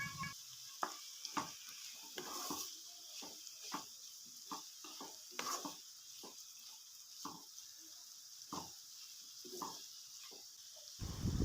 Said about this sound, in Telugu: అల్లం పేస్ట్ కొంచెం వేసుకొని అలా తిప్పుకుంటున్నాం